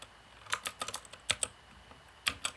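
A password being typed on a computer keyboard during a MySQL Workbench demo: a quick burst of sharp, close key clicks in two uneven clusters with a short pause between, over a faint room hiss.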